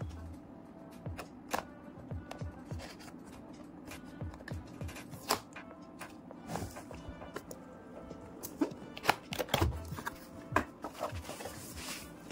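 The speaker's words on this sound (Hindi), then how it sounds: "चलिए अब हम इसको फटक से खोल लेते हैं। ये रहा हमारा चाकू।" Knife slitting and tearing open the cardboard box of an ANT Esports MK1400 gaming keyboard, with close scraping, cutting and rustling noises and sharp crackling clicks coming in irregular bursts, louder near the end.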